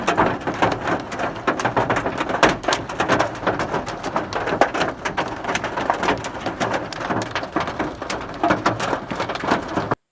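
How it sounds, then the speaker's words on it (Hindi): Heavy rain pours down with dense, rapid impacts of large hailstones pattering over it, loud and unbroken throughout, with no voices. "अभी ओले इतने मोटे मोटे पड़ रहे हैं"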